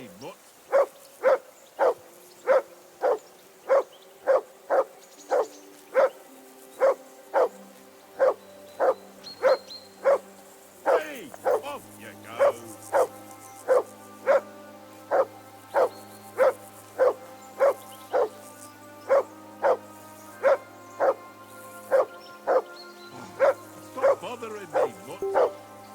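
A dog in the video game Kingdom Come Deliverance II barks in a steady, evenly spaced run of sharp, loud barks, with game voices and low background tones underneath.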